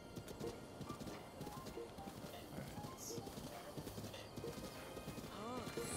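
Horse hooves clip-clop at a steady trot in Zelda: Breath of the Wild. A brief whinny and other game sounds come through under a faint background.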